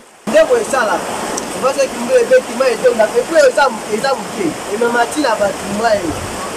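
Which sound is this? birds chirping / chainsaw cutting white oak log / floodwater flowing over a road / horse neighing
floodwater flowing over a road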